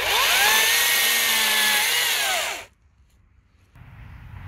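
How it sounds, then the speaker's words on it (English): A battery-powered Makita DUC254 electric chainsaw with a nearly empty battery runs loud and close as a high motor whine for about two and a half seconds, then winds down and cuts out, leaving quiet background noise. "I'm using this electric chainsaw, battery powered chainsaw, for about 2 years now."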